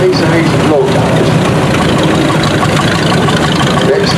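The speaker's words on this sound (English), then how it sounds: "We've got a little Ransomson's Jeffries mower going along there." A vintage Ransomes & Jefferies lawn mower engine runs at a Bedfordshire steam rally in 2024, giving a loud, steady, close chugging drone with a busy outdoor crowd behind it.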